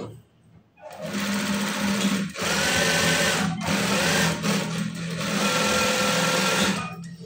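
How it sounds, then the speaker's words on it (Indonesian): A sewing machine stitches a trouser pocket in close, loud continuous runs. A steady mechanical whir is broken by two brief stops, and the motor spins up and winds down at each end. "Oke, kita jahit."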